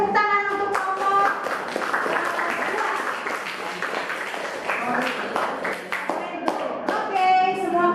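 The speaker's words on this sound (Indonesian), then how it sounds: "kasih tepuk tangan untuk kelompok" Classroom students clap for a group after its presentation, an uneven patter of hands running under a teacher's voice and other talk throughout.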